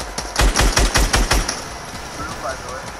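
Rapid burst of video game gunfire, about eight sharp loud shots in quick succession, followed by quieter background game sounds with no talking.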